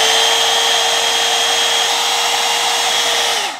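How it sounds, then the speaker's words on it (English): A Bondi Boost blow-out brush blows hot air with a loud, steady whirring hiss and a constant motor whine, running close and alone for several seconds before switching off. "It's a hairdryer, so she's going to be loud."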